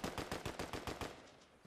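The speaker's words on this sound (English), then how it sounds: "Got a sniper scare at this guy." Gunfire in Fortnite, a rapid run of about eight evenly spaced shots that taper off, fairly faint and without talk.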